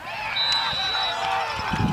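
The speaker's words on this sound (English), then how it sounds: "Where are the geese going?" Many geese honk at once in an overlapping, continuous chorus, loud and close, with some low thumps underneath.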